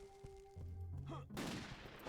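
Gunfire from a gun in the game Castlevania: Legacy of Darkness, a burst of loud shots and booms starting partway through, following a tonal musical hum, with no talk.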